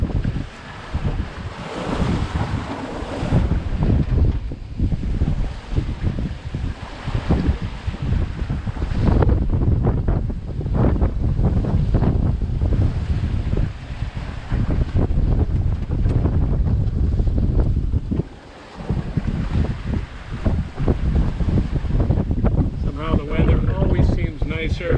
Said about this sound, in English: Wave Rover is double reefed, and we're making about 5 knots to windward.